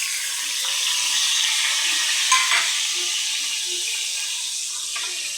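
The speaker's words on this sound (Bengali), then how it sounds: "লাল লাল করে রসুনটা ভেজে নেবো" Garlic fries in a pan with a loud, steady, close hiss of hot oil that barely changes, with one or two faint clinks partway through.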